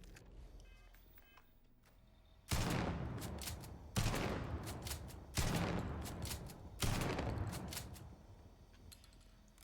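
Automatic fire from the Vas31 gun in the video game Starfield, four loud sustained bursts of rapid shots roughly a second and a half apart, each with a ringing tail, and no talk over them.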